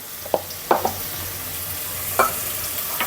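Garlic and ginger paste hitting a pan of frying onions and green chilies, giving a steady low sizzle with a few sharp stirring scrapes near the start and one midway, close and moderately loud.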